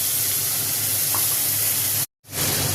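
Potato and cauliflower frying with spices in hot oil in a wok, a loud, steady hissing sizzle up close that cuts out briefly before resuming.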